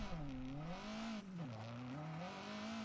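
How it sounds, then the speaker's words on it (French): Rally car engine in the video game WRC 9, a loud continuous rasp that rises and falls in pitch as the car revs and shifts through a stage. "Marche bien la voiture."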